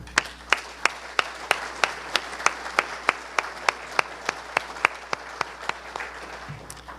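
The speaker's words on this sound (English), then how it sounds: "all of you deserve a big round of applause for that" Audience applause at a senior services organization's 50th anniversary event, a lively crowd of hand claps with sharp, evenly spaced louder claps standing out over the wash of applause, steady throughout before tapering off.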